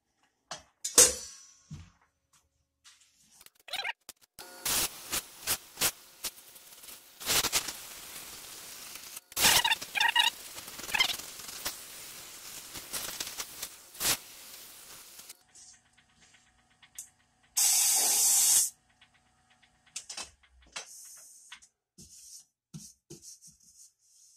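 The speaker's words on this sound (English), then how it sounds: "And now I can sand without ever putting my hand inside there." Sanding a wooden coffee mug turning on a lathe at about 500 RPM, with intermittent rubbing and rasping bursts, close and moderately loud, broken by pauses and a few sharper knocks.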